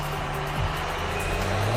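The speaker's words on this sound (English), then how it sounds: "Not an excellent burnout, but I guess he's going with that." A diesel-swapped Torino wagon doing a burnout before a drag race, a loud, steady low engine drone with a rising tone, heard up close for a couple of seconds.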